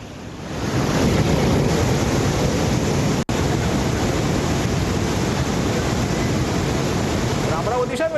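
Floodwaters of the Sipna river in Melghat, Amravati, Maharashtra, swollen by heavy monsoon rain, give a loud, constant rushing roar close by, with wind buffeting the microphone throughout.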